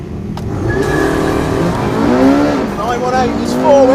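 Porsche 918 hybrid hypercar, McLaren P1 and Ducati Superleggera launching from a standing start: loud engine roar rising steeply in pitch as they accelerate, with a voice speaking over the noise.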